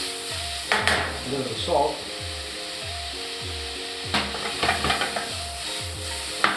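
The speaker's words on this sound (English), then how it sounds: "I cook up all the mushrooms for now." Mushrooms sauté in a pan to open a veal Marsala, with a low sizzle under a rhythmic wooden scraping and stirring. A brief spoken remark comes partway through, and a few clinks of utensils are heard.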